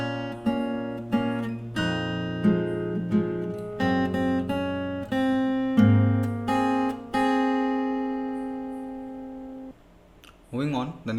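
The opening of a song on fingerstyle acoustic guitar: a flowing run of plucked melody notes over bass, close and clear, ending in a long ringing chord before a short burst of voice.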